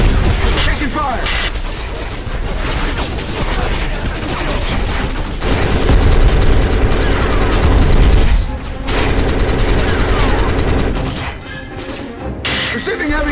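Dense, relentless gunfire and explosions fill a battle in the video game BLACK on PS2, loud overlapping bursts and crashes with brief dips, while a voice shouts over the din.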